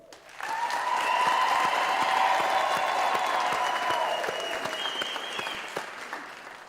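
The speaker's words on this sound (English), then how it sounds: "can we give a round of applause, please?" University graduation ceremony audience breaking into a round of applause, steady crowd clapping close by, overlaid with long high ululating cries from the crowd, tapering off near the end.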